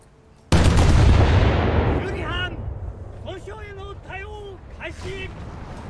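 A loud broadside boom from the cruiser Mogami's guns in a naval battle game crashes in near the start and rolls out into a long fading rumble, with a voice talking over the tail.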